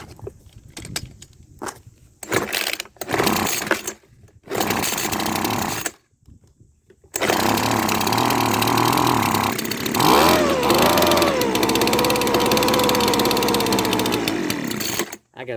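A trashed Weed Eater leaf blower's small two-stroke engine sputters and catches in short uneven bursts, cuts out, then roars steadily on choke with a brief rev surge, loud and close.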